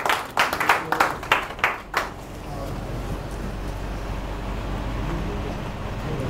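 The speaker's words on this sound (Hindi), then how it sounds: "तालियों के साथ भानु जी को बुलाइए." A small audience at a public-speaking session claps for about two seconds, a handful of sharp, uneven claps near the microphone, which then give way to a steady low background hum.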